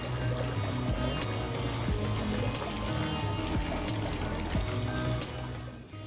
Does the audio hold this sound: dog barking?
no